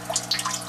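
Water draining and trickling out of a small DIY aquaponics container, a steady close burble with little drips and splashes scattered over a low hum.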